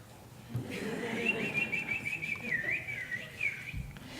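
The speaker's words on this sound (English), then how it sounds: "There was a wonderful bird with the sweetest song in the world." A sweet, warbling bird song rises as a steady, high, whistle-like line and carries on for a few seconds over a soft, low background hum.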